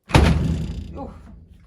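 A weighted cover aboard the submarine SAS Assegaai drops shut with a single heavy metallic thunk, loud and close, its ring dying away over about a second.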